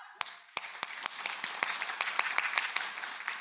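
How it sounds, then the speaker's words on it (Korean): A church congregation at a Sunday service clapping in a brisk, evenly spaced rhythm, sharp distinct claps growing denser, moderately close, no talk over it. "다시 한 번 더 박수 준비"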